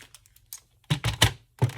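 Scissors cut a junk-mail paper envelope in half, giving a few sharp, close crisp snips in a quick cluster after a quiet start, with fainter rustling beforehand.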